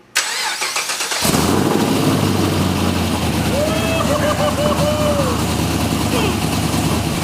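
A supercharged LS3 V8 in a 1967 Chevy Nova cranks briefly, then catches and settles into a loud, steady, rumbling idle close by. A voice is heard faintly over the engine.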